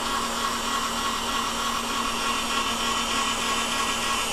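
An electric mixer whips softened unsalted butter cubes into cooked flour lemon ermine frosting, a steady, close, continuous high motor whine and hum that holds at one level throughout.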